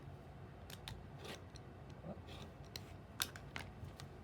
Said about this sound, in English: now all I have to do is cut my corner off a 1/4 inch away from my seam line